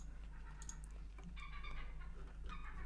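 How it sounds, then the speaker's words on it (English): Seagulls call outside, faint and distant, a few squawking cries over a steady low hum. "It's seagulls, they're everywhere."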